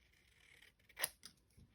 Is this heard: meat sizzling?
no